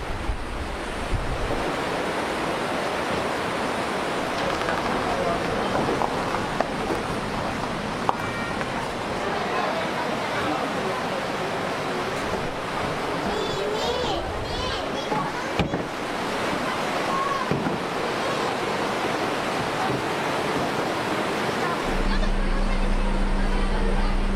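Water rushing along a scenic riverbank beside the Tutua Cot Kuala restaurant in the Tangse mountains of Pidie, a steady broad wash with wind buffeting the microphone, fairly loud throughout and a little louder near the end.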